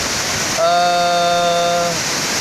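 Antrokan waterfall rushing as a steady, loud broadband roar that fills the whole stretch, with a sustained tonal hum sitting on top of the water noise partway through.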